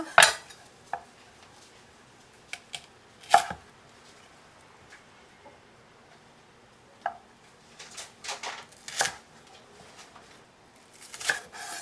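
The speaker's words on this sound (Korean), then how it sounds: "대파가 너무 두꺼우니까 저는 절반씩 잘라서 합니다" Sharp knife strokes knock against a cutting board while chopping green onion, scattered at first, then clustered in quick bursts of chopping, close and clear with no talking.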